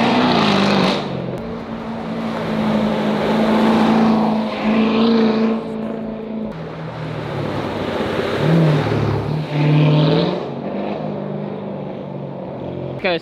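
A Chevrolet Corvette Trofeo supercar is driven hard around a corner, its engine roaring loud and continuous for several seconds, with pitch rising and falling through the turn and revving again.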